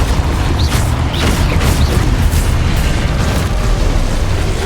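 Expulso blasting spell in a wizard video game, a continuous loud roaring explosion with dense low rumble and crackling bursts that fill the whole moment at steady intensity, with no talking.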